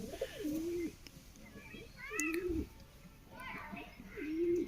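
A pet pigeon coos in a repeated rolling pattern, three or so soft throaty phrases close by, with a person talking over it.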